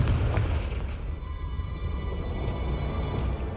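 A Confringo fire spell explodes in the Hogwarts Legacy video game, a deep, steady booming rumble that fills the whole stretch without pause.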